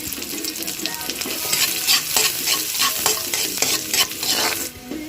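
Chopped onions sizzle and fry steadily in a pan, outdoors on a breezy day in Pangasinan, with a utensil scraping and stirring through them in repeated close strokes.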